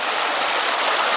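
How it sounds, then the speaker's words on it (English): Loud rushing water of Noontootla Creek, a wild trout stream in North Georgia, a dense steady roar close by with no break and no voices. "The water's really loud right here"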